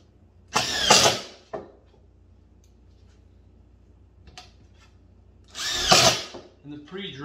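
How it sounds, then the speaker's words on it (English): A power drill pre-drills screw holes in cedar fence pickets for a raised garden bed in two short, loud, close bursts separated by quiet pauses, with faint handling clicks in between. "Will be pre-drilled. 3 screws. 1¼ inch, just to hold everything together."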